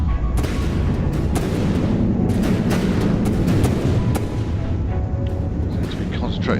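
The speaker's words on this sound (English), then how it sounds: "Seem to be concentrating the most of their fire on this dank tank here." Video game gunships pound a tank with shells in a dense, continuous barrage of loud booms and rumbling blasts that overlap without pause.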